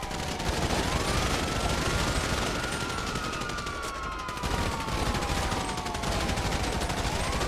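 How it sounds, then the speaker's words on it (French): Dense gunfire from a gunfight in the video game GTA, with steady, continuous shots heard alongside rising and falling police sirens, loud throughout. "fusillade en cours"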